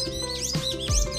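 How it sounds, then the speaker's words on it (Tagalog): Philippine bulbul on Sabtang Island, Batanes, giving a couple of quick sweeping chirps, clear and fairly close, with a soft thump in between. "I think that's a Philippine bulbul."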